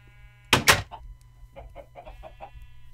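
Chickens in the block-building game Minecraft, kept in a coop: one loud squawking burst, then a quick run of short, soft clucks, with no talking.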